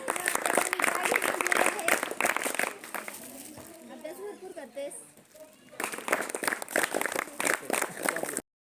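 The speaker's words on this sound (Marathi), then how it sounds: "तर हिच्यासाठी जोरदार टाळ्या" A schoolroom quiz-show audience breaks into loud, dense clapping for a contestant, fading for a few seconds of quieter talk before a second burst of applause, with a host and children speaking around it.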